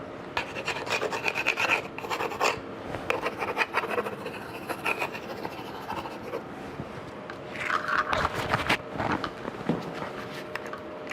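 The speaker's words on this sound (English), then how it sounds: "you'll see me just sanding for a while" Sandpaper works over a multicolor epoxy surface, producing close, steady rasping strokes in an uneven back-and-forth rhythm with short pauses.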